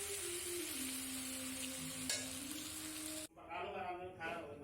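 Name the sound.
mixing vegetable spaghetti in a hot pan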